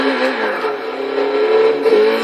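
A Nissan Silvia S15 engine revs in the Forza racing game, a loud steady droning whine holding and rising slightly, with no talking over it.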